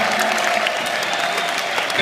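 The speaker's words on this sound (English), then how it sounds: "Give the staff a round of applause" A group of children and adults applauds camp staff at a youth basketball camp, brisk continuous clapping at a steady moderate level with a few voices mixed in.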